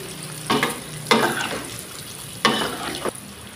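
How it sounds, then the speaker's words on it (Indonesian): Sausages sizzle and spit in hot oil, with three loud surges of frying noise as they are stirred, settling back to a steady crackle in between. "ini minyaknya sudah panas seperti ini. Lalu kita tuangkan ini sosisnya. Kita goreng separuh dulu ya"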